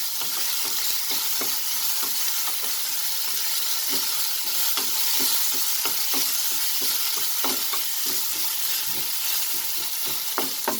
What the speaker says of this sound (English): the spring onion white. Just saute it a bit.